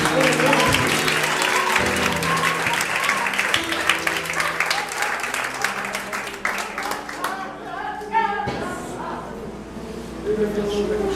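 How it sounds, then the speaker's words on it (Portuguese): A church congregation breaks into sustained applause after a prayer, dense clapping filling the room, fading near the end and then picking up again, with voices talking over it. "Vamos aplaudir, queridos."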